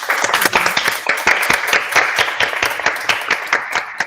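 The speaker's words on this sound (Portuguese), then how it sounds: "Uma salva de palmas para a Ana" Audience applause for Ana at a real estate brokers' gathering: a close, dense burst of many hands clapping, steady and lively throughout with no voices over it.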